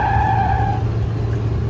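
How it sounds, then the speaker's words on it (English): A car's tires screech loudly while cornering, a high squeal over a steady engine drone that fades after a second, leaving the motor running alone. "The tires on her car screeched as she turned."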